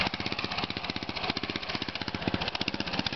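A homebuilt vehicle's engine runs on its first start, with a steady, loud, close, chugging idle, pulsing rapidly with a rough rattly edge throughout.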